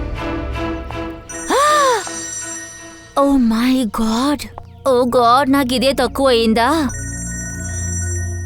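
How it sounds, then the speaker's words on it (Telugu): A mobile phone rings with a repeated melodic electronic ringtone in several bursts, loud and close, while a man exclaims over it. "మీ ఫోన్ రింగ్ అవుతుంది"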